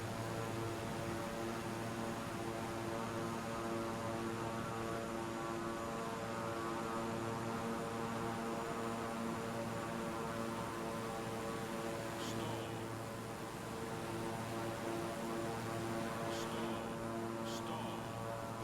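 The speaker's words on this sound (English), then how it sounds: "This aeroplane is certainly fighting me today." Propeller plane droning steadily in Microsoft Flight Simulator 2020 over Los Angeles, a constant engine hum with layered harmonic tones held at even loudness throughout, with a few faint clicks partway through.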